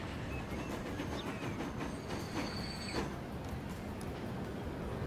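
A passenger train pulls into Lisbon in the Transport Fever 2 video game, with steady rolling rail rumble, faint clicking and thin wheel squeals over a constant noisy bed.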